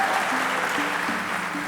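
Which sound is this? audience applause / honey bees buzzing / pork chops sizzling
audience applause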